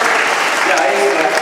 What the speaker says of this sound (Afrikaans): Geef vir die man 'n hand klap.